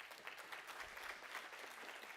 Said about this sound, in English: Really, give yourselves a round of applause.